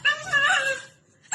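A dog whimpers in a brief, high, wavering whine that trails off after about a second, then a short yip-like sound follows, close and fairly loud.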